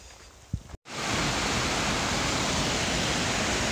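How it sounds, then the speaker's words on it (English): Laurel Creek on the Appalachian Trail in Virginia, swollen after heavy rain, rushes as a dense, steady roar of flowing water. It starts suddenly after a brief quiet moment and continues loud and unbroken. "This is Laurel Creek"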